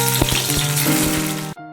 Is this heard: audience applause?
no